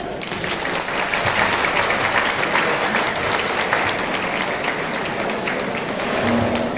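Steady, dense applause from a crowd at a wedding ceremony, loud and continuous for the whole stretch without a break.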